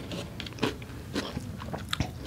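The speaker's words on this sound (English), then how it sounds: "I'm gonna start with the cucumber. A little dip." A few crisp bites and crunches into raw cucumber dipped in sauce during a healthy snack, three or four sharp crunchy bursts close to the mic with chewing between.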